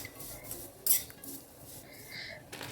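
Vermicelli and dry fruits roasting in a pan for shevyachi kheer, with a spoon scraping and lightly clinking against the metal under a soft background hiss, quiet and close.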